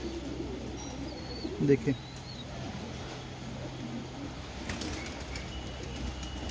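Pigeons coo around a rooftop racing loft, with a brief flurry of flapping wings and soft calls under a man's speech, and distant background hum.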